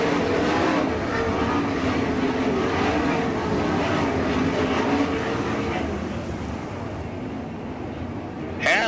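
Sprint cars in an All Star Circuit of Champions Winternationals race at Gibsonton, Florida, a loud steady engine roar from the field circling the track that fades slightly toward the end.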